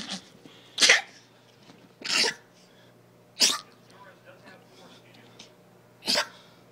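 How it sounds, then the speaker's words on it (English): A small dog gives four sharp, separate sneezes spaced about a second apart, close by in a quiet room with a faint low hum underneath. "Now it's sneezing."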